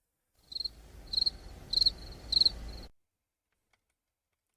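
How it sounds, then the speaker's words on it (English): Crickets chirp close by in four short, evenly spaced bursts of shrill trilling over a low rumble, and then everything goes silent. "Are you guys having fun with the crickets?"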